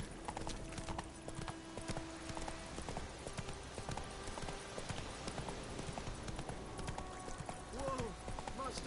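A horse gallops in The Witcher 3 with steady, rapid hoof clip-clops running throughout, and a brief whinny near the end. Voices talk over it.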